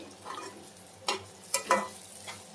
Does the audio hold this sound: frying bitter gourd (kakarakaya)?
yes